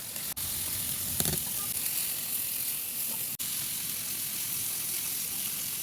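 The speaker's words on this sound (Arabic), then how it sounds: "ونشوي البروشيت. نقوم بتقليبها كي لا تحترق." Chicken brochette skewers sizzle while grilling, a loud, steady frying hiss that runs throughout with a brief clatter as they are turned.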